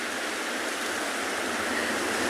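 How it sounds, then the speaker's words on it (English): Waves crash on rocks by a seal colony on a South African coast, a steady, loud, continuous broadband roar of surf with no distinct breaks. "the beautiful sound of the crashing waves."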